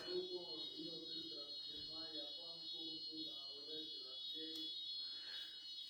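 A building fire alarm rings continuously with a steady, piercing electronic tone throughout, while someone speaks over it indoors.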